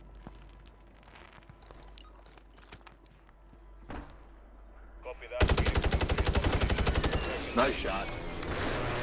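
Gunfire in a Call of Duty match: scattered distant shots and thumps at first, then a loud, rapid burst of automatic fire that rattles on for a few seconds.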